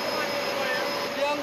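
A firefighting helicopter is working a wildfire on a windy mountainside, its steady turbine whine and rotor noise droning continuously at a moderate distance.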